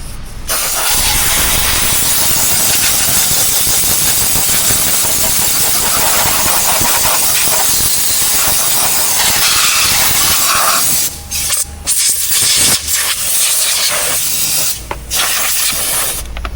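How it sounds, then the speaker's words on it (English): A sustained, loud hiss of compressed gas blowing steadily for about eleven seconds, then breaking into several shorter bursts and sputters near the end. "Take some compressed nitrogen, CO2, and oxygen here. We're gonna blow this out."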